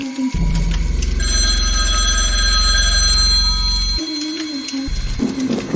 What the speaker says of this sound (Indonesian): tiba-tiba telepon yang ada di kamar mereka berdering